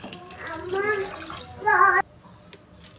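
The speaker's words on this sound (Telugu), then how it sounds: "ఇప్పుడు పులుసు కోసం వాటర్ యాడ్ చేసుకోవాలి." Water is poured into a pot of pulusu in a home kitchen, a short splashing pour heard under a talking voice.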